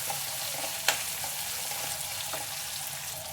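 Garlic fries in a pan for a chutney made with drumstick leaves, giving a steady, quiet sizzle and one brief clink of a utensil.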